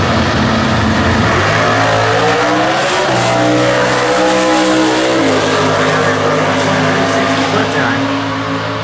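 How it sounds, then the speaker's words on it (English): Factory Stock Showdown drag cars at the NHRA US Nationals, including a 5.4-liter entry, roar hard off the line and accelerate, engine tones sweeping upward through gear changes in a loud, continuous blast. "Final of our factory stock B cars."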